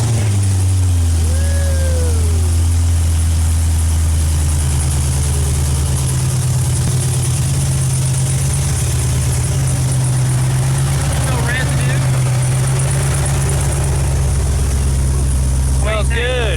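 A 1967 Chevrolet Camaro SS V8 rumbles at a loud, steady idle close by, a deep continuous drone running throughout with faint voices underneath.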